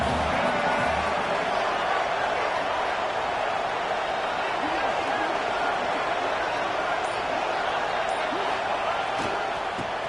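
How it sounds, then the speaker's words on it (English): A big crowd at a UTSA versus USF college football game roars steadily as the defense holds near the goal line. The dense crowd noise runs throughout and stays loud beneath the continuous commentary. "this big crowd doing everything possible to inspire this defense down here near the goal line"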